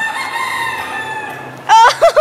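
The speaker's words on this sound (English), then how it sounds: "Dude, there's a freaking rooster in here. Come on, go off again, rooster." A rooster nearby indoors lets out a loud, close crow in short bursts near the end, following a quieter stretch of faint tonal background sound.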